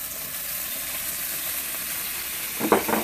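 Ginger and garlic sizzling in a hot pan with soy sauce, a steady bright frying hiss held throughout, with a short burst of louder spattering and stirring near the end.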